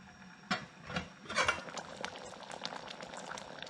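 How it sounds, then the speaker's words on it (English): Red lentil soup with carrots boiling in a pot, a steady bubbling and popping with a few louder splashy bursts early on, close and moderately quiet, no voices. "raise the heat again and bring it to a boil, and then right back down to a simmer"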